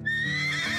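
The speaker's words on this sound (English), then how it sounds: "Horses." A horse neighs in a single loud, sustained whinny that carries steadily through the short moment, with no voices alongside, in a simple farm-animal setting.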